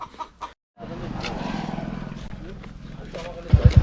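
Chicken clucking close by, mixed with voices and background noise, ending in a few louder low thumps.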